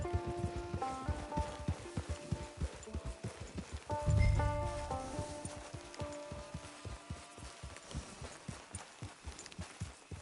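Horse hooves clip-clopping at a steady walking pace in Red Dead Online, close and rhythmic, with faint game music tones behind and a brief low thump midway.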